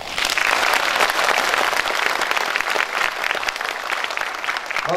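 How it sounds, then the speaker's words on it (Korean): A room full of people at a political forum at the Jeonbuk Arts Center applauding, dense and steady clapping that holds at full strength throughout. "소개할 때 큰 박수로 환영해 주시기 바랍니다."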